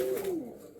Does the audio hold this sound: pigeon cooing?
yes